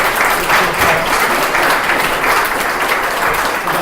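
Audience applause at a pro-Europe group gathering in Liverpool, a loud, steady wash of many hands clapping that fills the whole stretch without pause.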